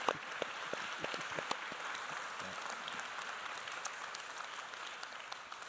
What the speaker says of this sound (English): can we just give Savannah and Jeff a round of applause, please?